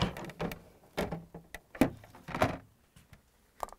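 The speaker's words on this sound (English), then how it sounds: "Then we're going to lift up the drawer," Samsung freezer ice drawer lifted out during icemaker removal: a run of close plastic clunks, scrapes and sliding knocks, irregular and fairly quiet, with brief pauses between handling sounds.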